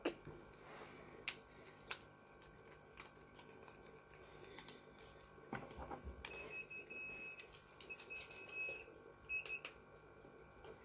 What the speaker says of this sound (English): There we go, that's what the alarm sounds like.